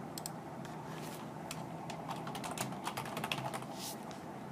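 Quiet, close computer keyboard typing: rapid clusters of light key clicks with brief pauses, steady and unaccompanied by speech.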